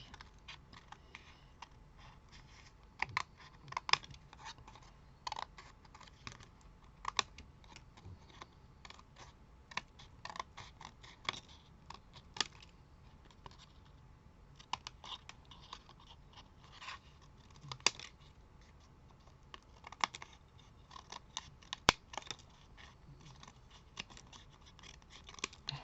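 Scissors snip through paper scraps for a handmade scrapbooking card, quiet crisp cuts coming in irregular clusters with soft handling rustles between them.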